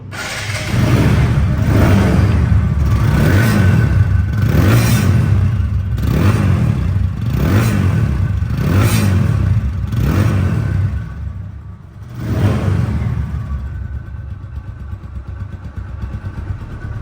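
TVS Apache RTR 2V motorcycle, a 2024 ABS model in showroom condition, starts and revs in a steady series of loud, close throttle blips, roughly one every second, before the engine drops to idle, picks up with one more rev and fades.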